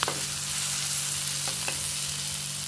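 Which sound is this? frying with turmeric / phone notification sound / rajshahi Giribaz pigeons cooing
frying with turmeric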